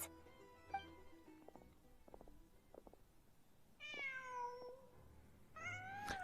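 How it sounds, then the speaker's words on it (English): A cat in the game Genshin Impact meows several times, with short clicky noises between the calls, then two drawn-out meows near the end, fairly quiet and with no talk. "Oh, the fucking cat."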